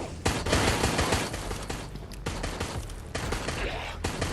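Dense gunfire in a Resident Evil-style video game, a continuous loud volley of overlapping shots and blasts with a few sharper reports standing out.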